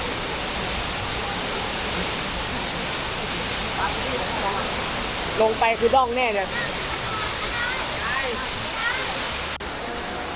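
Strong, heavy flow of Jokkradin waterfall, a steady broadband rush of water from start to finish, with a brief burst of speech midway over the roar.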